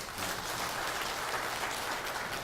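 A church congregation applauds to welcome two visiting families at a Sabbath service, a steady, dense wash of clapping from a roomful of people that holds evenly throughout.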